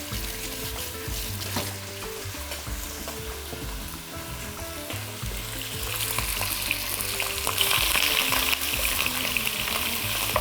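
Lamb meat browning in a hot pan gives a steady, close sizzle and fry crackle lasting throughout, swelling louder in the second half, with faint clinks and occasional water noise in the background and no talking.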